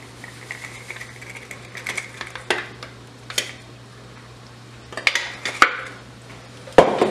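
Mini Wheats cereal cookie mixture being stirred in a bowl, with irregular scraping and clinking of a utensil against the bowl, some sharper knocks toward the end, and no speech.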